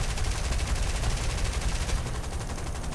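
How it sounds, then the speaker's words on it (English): Rapid machine-gun bursts hammer at a bomber in War Thunder, a dense, continuous rattle of gunfire that runs loud and steady throughout, with no voices. "Somebody else is shooting at me."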